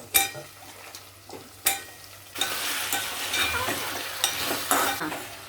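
Pieces of elephant foot yam fry with onions in a pan, a loud continuous sizzle with repeated spatula scrapes and clanks, a couple of sharp knocks early on, close by and without speech.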